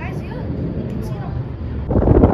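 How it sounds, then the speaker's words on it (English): Steady low rumbling wind buffeting a microphone high up in Las Vegas, growing louder and harsher toward the end. "It's so windy up here, so I apologize."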